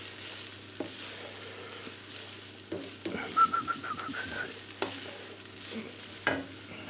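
Minced beef fries in a hot pan for a chilli, a steady sizzle with scattered scraping stirs and clatters of a utensil against the pan, close by and fairly quiet with no talk.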